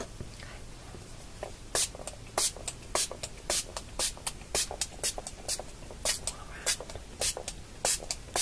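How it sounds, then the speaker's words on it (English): Close, soft bursts of a spray bottle misting water onto a face during a spa facial, fired in quick irregular clusters of short hissing puffs against a quiet background. "spray your face with the water"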